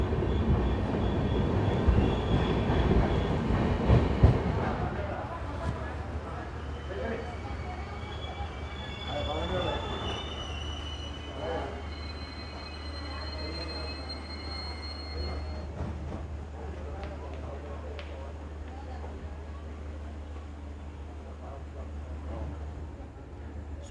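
The Yesvantpur–Latur Express pulls out of Gauribidanur station with a loud rumble and clatter of wheels that settles into a steady low rolling drone, faint squeals over it, and people talking nearby.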